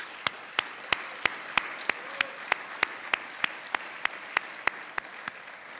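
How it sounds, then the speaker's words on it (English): Sharp, evenly spaced claps ring out one after another at an awards ceremony for a debate championship, a steady rhythmic beat over a low hall murmur rather than a dense round of applause. "Give them a round of applause."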